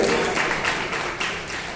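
Applause from an audience at a Bhojpuri poetry recital seminar in Ghazipur, a dense, steady patter of clapping that fills the short stretch at close range with no break.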